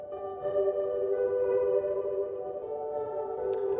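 A sustained tone passes through the iOS Reverberation audio unit's modulated room reverb, its layered overtones slowly wavering and shimmering as the reverb tail drifts, steady and alone with no voices.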